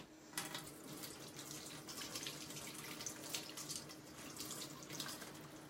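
Tap water runs steadily into a sink, rinsing chalk paint off a surface; a continuous close splashing flow with no talk.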